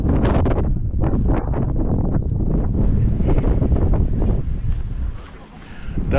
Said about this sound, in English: And the wind is vicious, so you probably can't hear me